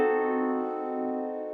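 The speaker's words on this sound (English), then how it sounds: "Now I think the fully diminished chord, to me, it sounds like it's a very tense type of chord" A single fully diminished seventh chord rings out on a keyboard, one sustained tense chord slowly fading, clear and alone with no talking.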